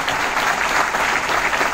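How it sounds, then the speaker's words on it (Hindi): Loud, dense audience applause fills a business seminar hall in Mumbai, a steady wash of clapping from many hands with no pauses. "एक बार जोरदार तालियां सबके लिए।"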